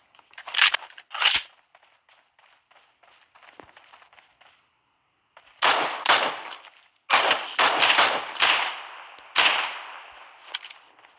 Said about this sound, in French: Je tire de temps en temps pour voir en fait s'il réagit.